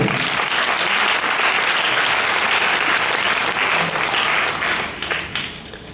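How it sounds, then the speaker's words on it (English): An audience at an awards ceremony gives a sustained round of applause. The clapping is dense and even and fades slightly toward the end. "Ladies and gentlemen, a round of applause to Mr. Tom Byrne."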